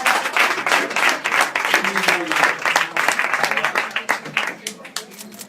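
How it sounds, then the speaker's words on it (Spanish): A crowd at a political gathering claps loudly and briskly, the applause thinning into separate claps near the end while voices talk underneath. "Un aplauso para él."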